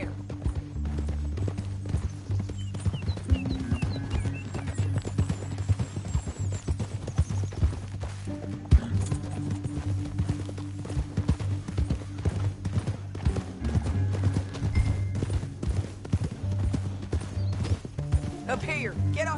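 Steady clip-clopping horse hooves keep a rhythmic pace over a low musical score in Red Dead Redemption 2, with voices speaking at times over the trotting.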